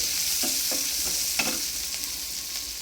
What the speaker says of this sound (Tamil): நல்லா குக்கான வெங்காயம் ஒரு 1 மினிட் தான் போட்டு லைட்டாக ஒரு வணக்கு